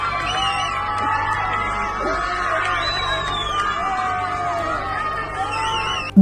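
A large crowd of women cheers at a street parade in Delhi, a steady, loud wash of whoops, yells and overlapping shouting voices that continues throughout.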